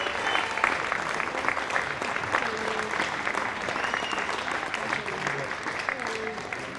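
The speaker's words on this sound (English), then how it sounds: "Round of applause, please, for the medal winner, Thomas Robbins from Queensland." An indoor crowd at a boccia national titles medal presentation applauds a medal winner, producing steady, dense clapping that holds at even loudness throughout, with a presenter's voice faintly under it.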